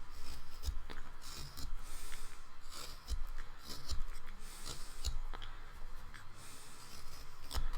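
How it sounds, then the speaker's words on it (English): A carving knife makes a scoop cut in a wooden figure, producing close, quiet scraping and rasping strokes in an irregular rhythm, with small sharp clicks as the blade catches the wood. "I'm making a scoop cut"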